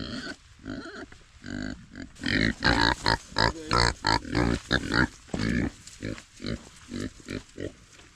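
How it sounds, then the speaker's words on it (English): Idaho pasture pigs out in the field grunt and snort close up in a quick, continuous run of rough bursts, loud and with no voices. "Idaho pasture pigs, let's see what they've been doing for the last week."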